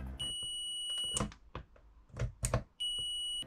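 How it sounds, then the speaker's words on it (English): A steady high-pitched electronic beep sounds twice, each tone held for about a second, separated by handling clicks and rustling. "I have my multimeter in the continuity setting, which will give a beep when the connection is made."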